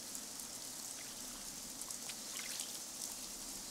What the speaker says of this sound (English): There's lots of rain up in Hura.